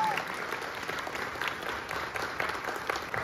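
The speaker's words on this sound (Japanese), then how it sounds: "そして新たな門出にも大きな拍手を、何卒よろしくお願いを申し上げます" A crowd at a professional athlete's retirement ceremony applauds steadily and loudly, a dense, even wash of clapping from many hands that fills the whole stretch.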